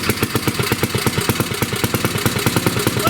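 A 1937 Briggs and Stratton Model A small engine runs at a steady fast idle during warm-up, its loud, even putter with a rapid regular pulse and a metallic clatter, no voices.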